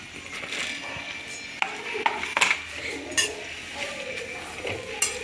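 Ganike greens are sautéed in oil in a home kitchen pan, with scraping stirs and sharp metallic clinks of a utensil against the pan over a quiet background.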